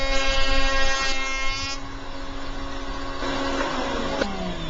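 An MLCS horizontal router table cuts across the end grain of a wood panel, a steady high motor whine with a grinding edge that dips and shifts in pitch as the cut moves along, with no voices.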